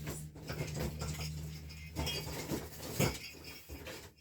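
Hands digging through a box of artificial Christmas wreath decorations, giving a continuous soft rustle of plastic and small knocks close by, fairly quiet, with a slightly louder clatter near the end.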